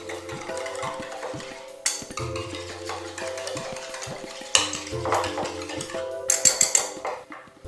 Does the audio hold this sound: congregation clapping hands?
no